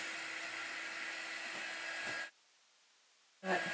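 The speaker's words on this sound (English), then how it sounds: "I'm going to just kind of give it a quick little dry so that I can get on the inside." A hair dryer blows steadily and close to speed-dry paint on an upcycled thrift store piece, cutting out abruptly for about a second before starting up again.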